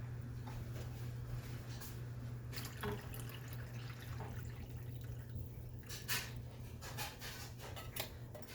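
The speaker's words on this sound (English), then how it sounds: "And now I'm gonna add a can full of water." Water is poured from an emptied tomato-sauce can into a pot of Southern-style goulash, making a soft, steady splashing trickle over a low constant hum, fairly quiet and close, with no talking.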